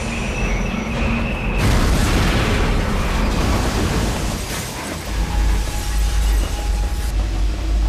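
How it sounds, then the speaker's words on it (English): A loud, sustained rumbling roar with heavy low-end crashes as an oil-laden freight train plows head-on into a derailed train inside a tunnel, continuous and overwhelming throughout. "a freight train laden with oil rumbles into the tunnel, plowing head-on into the derailed train."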